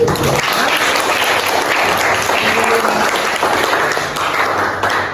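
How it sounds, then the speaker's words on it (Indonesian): Classroom of high school students clapping hands together in steady, dense applause lasting throughout, loud and close with faint voices mixed in. "Oke, tepuk tangan dulu."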